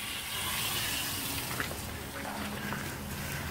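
Compressed air hissing and rushing steadily from a cracked-open drain valve on a truck air tank, a continuous broadband spray that holds fairly loud throughout.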